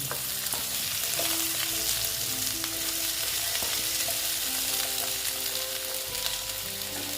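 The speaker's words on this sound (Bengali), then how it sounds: "মিষ্টি কুমড়োর সঙ্গে আবার এইগুলো ভাজা ভাজা করে দিচ্ছি" Pumpkin pieces fry loudly in a pan for a bitter gourd and pumpkin dish, a constant sizzling hiss with occasional scraping stirs and light clinks, no talking.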